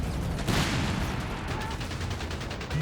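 Gunfire and anti-tank guns fire in the video game Company of Heroes 3, a dense, loud barrage of rapid shots and heavy booms, with a commentator talking over it.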